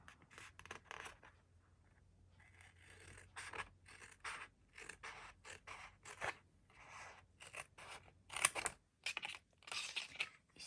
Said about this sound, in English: Scissors are very, very sharp.